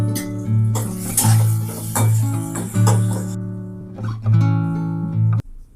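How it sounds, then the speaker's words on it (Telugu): Tomato and onions for mutton keema fry in a pan with a soft sizzle, while a spoon stirs and clinks against the metal over a steady low hum. "అది కూడా దీంట్లో వేసేసి కొంచెం వేయించుకొని"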